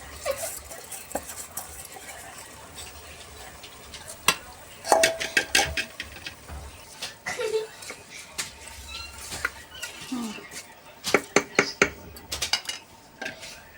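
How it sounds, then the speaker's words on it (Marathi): Rice goes into a pan of hot oil with scattered rattling, scraping and stirring clatter from utensils against the metal, in a home kitchen with a voice speaking at intervals. "आता मी तांदूळ टाकून घेते."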